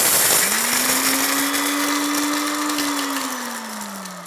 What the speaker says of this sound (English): we have to grind this to a paste